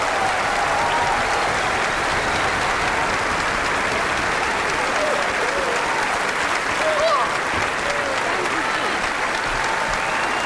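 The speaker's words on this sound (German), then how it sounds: "Geben Sie sie ein riesiges Wiener Applaus" Sustained, dense applause from a large concert audience in Vienna greeting a singer as she takes the stage, steady and loud throughout with a slight swell near the end and scattered voices in the crowd.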